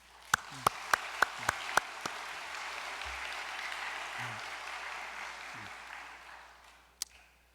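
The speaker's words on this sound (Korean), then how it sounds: "오늘 우리 두 손주님을 위해서 박수 한번 보내겠습니다" Congregation at a church service applauding, a soft, distant patter of many hands spreading through a large room after several sharp, evenly spaced taps at the start, with faint low voice sounds beneath.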